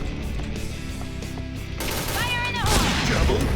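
Rapid bursts of gunfire from a sniper rifle in an online shooter, sharp cracks in quick succession that grow busier and louder toward the end, with a player talking over them.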